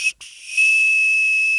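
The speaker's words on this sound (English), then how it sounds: "They gave us hot dog whistles." A Wienermobile hot dog whistle is blown close by, giving a short high shrill note, a brief break, then a long sustained piercing tone with breathy hiss.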